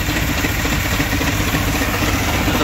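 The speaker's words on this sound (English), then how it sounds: "There's the old steam engine that runs the thresher." An old steam engine drives a threshing machine, giving a steady, loud mechanical rumble and chugging vibration that holds without pause, with no talk over it.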